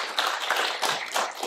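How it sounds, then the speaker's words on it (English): Brief burst of audience applause for a guest speaker at a college Q&A event, a close, dense patter of clapping hands at moderate loudness. "if you give a nice round of applause here, I would appreciate it for our speaker, Peter Zeihan."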